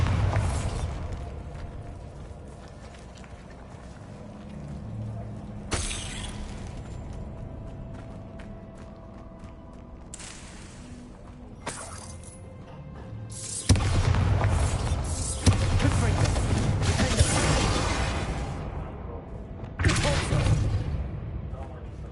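Explosions from the Bombarda spell in the video game Hogwarts Legacy go off as a series of loud booming blasts with crackling debris and spell effects. A voice calls out between the bursts.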